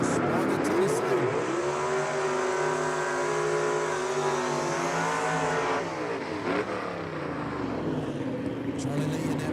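A fastback gasser drag car at Jackson Dragway in a Southeast Gassers Association race revs and runs loud and sustained, its engine pitch rising and falling, with an announcer talking over it throughout.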